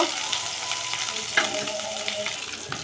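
A spice paste for a vegetarian Bengali dish fries and is stirred in a pan, a close, steady sizzle broken by scraping spoon strokes and a few sharper clicks.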